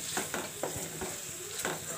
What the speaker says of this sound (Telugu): సన్నగా కట్ చేసిన కొత్తిమీర ఆకు వేసి ఒకసారి కలుపుకుందాం